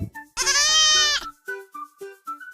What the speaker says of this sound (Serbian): A kao antilopa. Da li znate kako se ona oglašava?